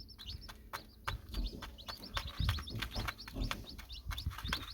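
A mother hen's low, soft clucking calls beneath a flurry of high peeping from newly hatched chicks, close by and continuous.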